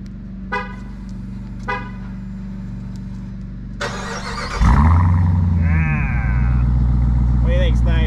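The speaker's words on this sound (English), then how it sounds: "All right, let's do a cold start here." A 2021 Dodge Durango SRT Hellcat fires up from cold with a sudden loud roar that settles into a heavy, steady idle with a brief rev swell, following a few quiet clicks and thumps beforehand.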